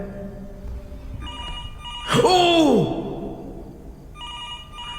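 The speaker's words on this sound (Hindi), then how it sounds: "टेलीफोन बज रहा है" A telephone rings in the horror game Fears to Fathom, one clear electronic ring burst standing out loudly over a quiet room ambience with a faint voice.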